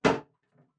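Door of a food dehydrator set in place: a single short plastic clunk, close and fairly loud, followed by a faint soft tap, with no talking.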